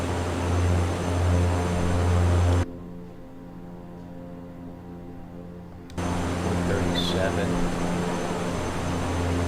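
Viking Air CL-415 water bomber engines run at full throttle during water-drop practice at Crater Lake, a loud, steady propeller drone that dips quieter for a few seconds mid-clip before returning at full strength.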